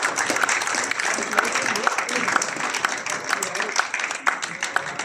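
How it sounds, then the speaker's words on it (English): Audience applauding at a book launch, a lively continuous patter of clapping with sharper individual claps poking through and crowd murmur underneath. "Please give a round of applause"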